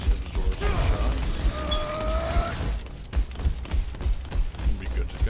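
Shots striking Sigma's barrier shield in Overwatch: a busy clatter of impacts and mechanical creaks with a ringing whine, amid game noise and some voice.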